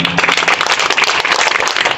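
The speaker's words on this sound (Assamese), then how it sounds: "উপস্থিত ৰাইজসকলে এটা হাত চাপৰি মাৰিলে আমি ভাল পাম।" A crowd at a tribute event for Zubeen Garg claps together in loud, dense, continuous applause that fills the room.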